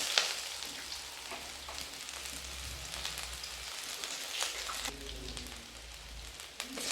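Small onions, garlic cloves and a dried red chili fry in a pan for a tamarind okra kuzhambu, giving a steady, close crackling sizzle with no one speaking.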